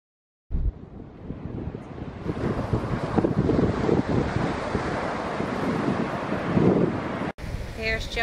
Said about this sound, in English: You can really hear the beach, the waves.